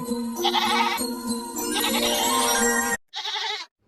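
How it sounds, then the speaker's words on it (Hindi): A goat bleats repeatedly in wavering, nasal cries, close and fairly loud, breaking off briefly before one last short bleat. "यह तो बकरी के चिल्लाने की आवाज है"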